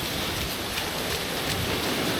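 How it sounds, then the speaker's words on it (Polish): Heavy tropical downpour in a narrow street in Vietnam, a dense, steady hiss of rain pouring onto surfaces, uniform and continuous with no voices. "Strasznie pada."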